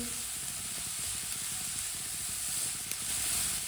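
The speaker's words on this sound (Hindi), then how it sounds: "सब्जियों को चम्मच चलाते हुए पकाना।" Vegetables for Chinese kebabs frying in a pan while stirred with a spoon, giving a steady, soft sizzle with faint scraping throughout.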